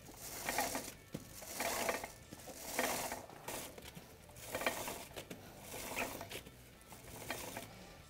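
The rear wheels and chain of a Yamaha YFZ450R quad are turned by hand during chain cleaning, giving repeated clicking, ratcheting mechanical passes in several swells, close up and with no talking.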